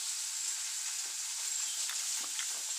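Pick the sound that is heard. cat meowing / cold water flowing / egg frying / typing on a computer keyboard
egg frying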